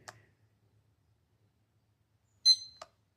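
ThermoPro TP829B thermometer buttons being pressed, giving a short soft click at the start and then a sharp electronic beep with a trailing tone and a second click after a long quiet gap.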